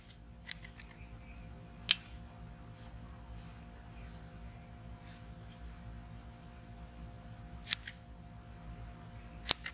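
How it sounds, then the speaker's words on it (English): A handful of sharp scissor snips, spaced irregularly and isolated, cut through a quiet room with a faint hum underneath. "Get the scissors and kind of dress it up just a little bit."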